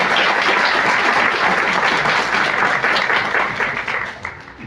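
An audience at a book presentation breaks into loud, sustained applause, a thick wash of many hands clapping at once that holds strong before thinning and fading toward the end.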